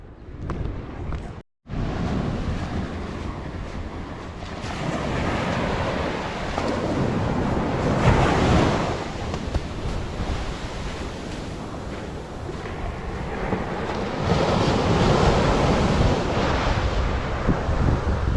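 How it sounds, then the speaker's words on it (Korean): Ocean surf rolls in on Haeundae beach on a morning, a steady, full wash of breaking waves that swells and eases. Wind buffets the microphone throughout, and there is a brief dropout near the start. "이 파도 소리와 함께 이 해운대의 아침은 정말 멋집니다"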